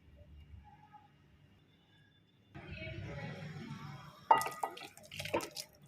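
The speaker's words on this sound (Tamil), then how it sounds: "ஜாரியை கழுவி ஊற்றிடலாம்." Water runs into a blender jar as it is rinsed in a kitchen, starting with a faint trickle, then a steadier pour and louder splashing with clinks near the end.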